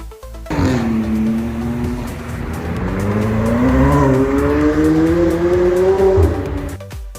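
A McLaren 765LT sports car's engine and exhaust roar loud and close, revving steadily upward in pitch across several seconds with a rising, sustained growl and a faint tire squeal.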